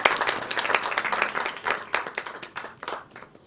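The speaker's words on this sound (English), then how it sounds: "Please give a round of applause to Dr. Bijukumar Damodaran." An audience at a film festival in Goa applauds a national award-winning guest, with steady, dense clapping from a moderately distant crowd for a few seconds.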